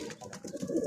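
An injured pigeon with a wounded neck coos softly at close range, low repeated murmurs over a quiet background.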